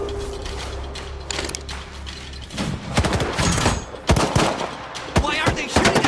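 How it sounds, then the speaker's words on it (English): Gunfire in STALKER 2: Heart of Chernobyl. A low ambient hum gives way to sharp, irregular shots and bursts with mechanical clatter, growing louder toward the end, with no speech. "Why are they shooting at us?"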